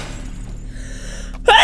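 A single sharp sneeze from a character in the video game Yuppie Psycho bursts out suddenly at the very end, preceded by a quiet background hum and a faint breathy intake.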